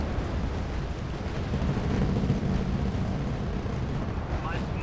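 Artillery fire in the war strategy game Wargame Red Dragon: a dense, continuous low rumble of distant explosions, steady and heavy throughout.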